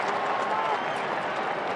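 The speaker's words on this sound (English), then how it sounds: "Crowd finding some voice." A football stadium crowd at an AFL match between Fremantle and Carlton gives a steady, distant roar of cheering, a broad wash of noise that holds throughout.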